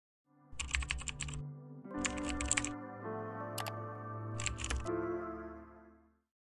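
Album and artist names typed on a computer keyboard: three quick bursts of close, crisp key clicks with short pauses between them and a low hum underneath.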